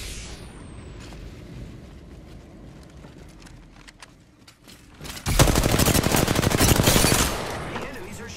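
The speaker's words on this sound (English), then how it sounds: "The enemies are shooting at me." Enemy gunfire in Apex Legends, with scattered shots at first, then a loud, sustained burst of rapid automatic fire that rattles for about two seconds before easing off.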